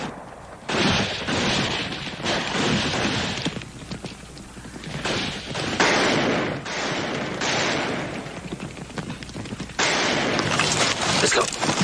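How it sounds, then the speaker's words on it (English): Gunfire rings out in a scene from the Western TV series Bonanza, repeated shots and clattering bursts mixed with horse hooves and action noise, loud and dense over several seconds. "I sworn I heard gunshots."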